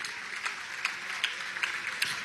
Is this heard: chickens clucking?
no